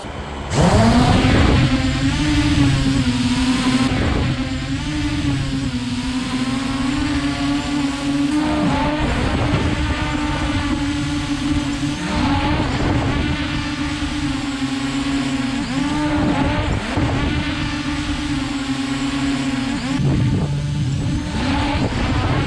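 Cheap toy drone under fifty dollars in flight, a constant buzzing motor whine with a strong steady hum and wavering pitch that rises and falls as it climbs, loud and close with no talking.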